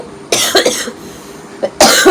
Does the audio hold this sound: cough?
yes